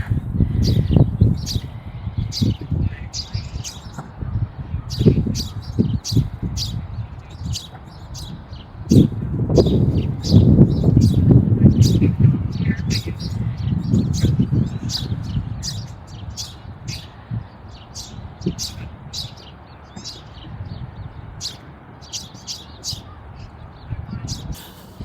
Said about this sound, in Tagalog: dami na nang naghuni ng ibon